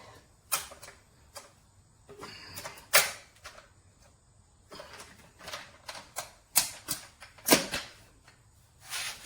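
A folding metal step stool has its legs folded closed, producing a series of sharp metallic clicks, clacks and creaks in irregular bursts, close and fairly loud against a quiet background.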